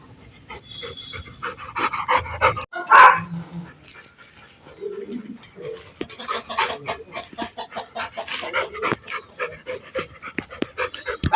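A European Labrador Retriever pants in quick, uneven bursts close by, while chickens cluck nearby and a person talks briefly.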